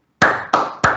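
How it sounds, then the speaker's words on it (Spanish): Three sharp, close claps in steady rhythm with short ringing tails, a brief round of applause for a speaker after a professional talk, without other voices. "por mi parte simplemente darte un fuerte aplauso"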